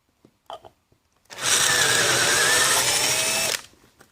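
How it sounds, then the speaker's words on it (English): A power drill whines steadily for about two seconds, loud and close, drilling holes through a metal plate, then cuts off, with a few faint clicks and taps before it starts. "I've got the holes marked where I've got to drill through"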